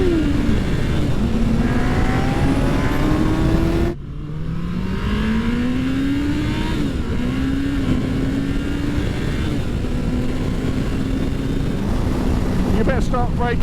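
Yamaha R1 and Honda Fireblade superbikes pulling hard through the gears, a loud continuous engine roar whose pitch climbs, drops at each shift near four and seven seconds, then climbs again, heard close amid wind rush.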